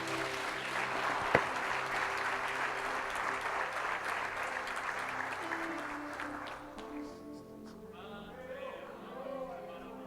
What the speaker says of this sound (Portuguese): Irmãos, pode aplaudir.